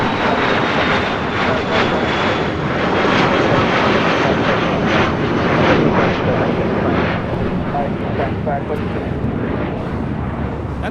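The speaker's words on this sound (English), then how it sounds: "That is a Dassault Falcon" A Dassault Falcon 8X business jet roars past on departure from LAX, a loud, steady broadband engine rush with wind buffeting the microphone, while people talk faintly underneath.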